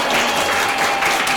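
A short burst of steady, dense clapping from a talk show audience at a vocational high school, loud and continuous without a break.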